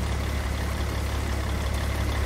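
Idling Caterpillar C15 600 hp diesel truck engine in American Truck Simulator, a steady low rumble held at an even level throughout, close and alone with no talk.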